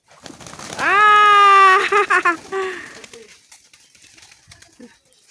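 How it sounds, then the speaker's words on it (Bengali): Pigeons being fed come down to land, giving a loud, clear tonal call or coo-like note followed by a few quick fluttering bursts, with fainter rustling and a voice nearby. "এই যে কবুতর এই যে নামছে নামছে নামছে"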